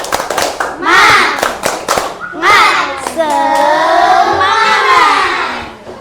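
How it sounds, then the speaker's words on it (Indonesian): An elementary school class does a rhythmic clap-and-chant cheer: sharp hand claps at the start, then loud, sustained children's voices chanting in unison. "ayo kita lakukan kegiatan tepuk semangat terlebih dahulu. Tepuk semangat."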